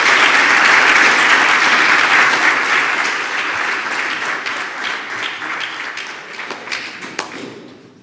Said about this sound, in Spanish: damos por finalizada la conferencia con un aplauso